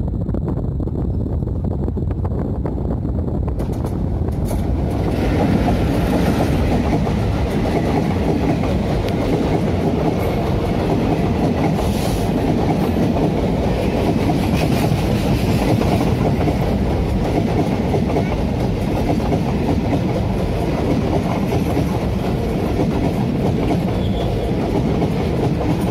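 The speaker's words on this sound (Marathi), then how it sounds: "आता इथं ट्रेनचा आवाज येतोय" A train runs past at a distance on a morning outside town, its steady rumble and rail clatter filling the whole stretch with some wind buffeting the microphone.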